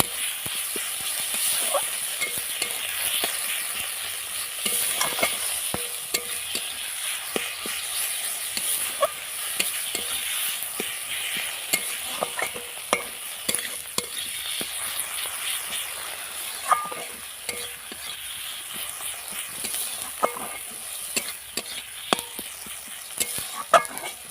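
Soybean and potato curry is stir-fried in a pan, with a constant hissing fry broken by repeated scraping clicks of a spatula stirring at a steady, busy pace.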